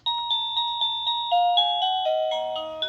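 Classic doorbell chime tune from an OhmKat doorbell, a clear electronic melody of about a dozen evenly spaced ringing tones stepping down in pitch, loud and close with no voices.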